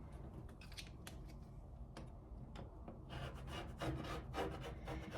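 Scissors cut fleece fabric for a no-sew blanket, making soft, close snipping and rubbing sounds in a quick irregular series that grows a little busier partway through.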